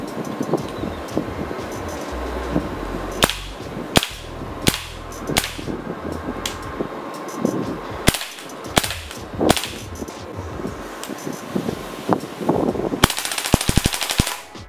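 A UMP submachine gun fires in scattered bursts and single cracks outdoors, sharp loud reports with irregular gaps between them and a denser rattle near the end.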